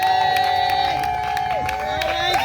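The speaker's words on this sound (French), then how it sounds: "On acclame pour Jésus." An evangelism campaign crowd cheers and claps for Jesus in dense, continuous bursts, with shouts and whoops over a music backing and a preacher's voice.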